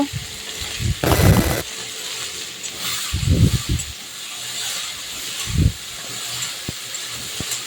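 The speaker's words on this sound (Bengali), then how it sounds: "ওই তেলেই আমি ভেন্ডিগুলো ভেজে নেব" Steady hiss of oil frying okra fills the background, with short bursts of louder sizzling and a few clinks of a utensil.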